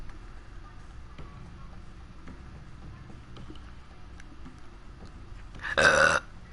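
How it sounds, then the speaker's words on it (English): A single loud, short burp erupts near the end, close to the microphone, over a steady low hum of background noise. "I can't stop burping"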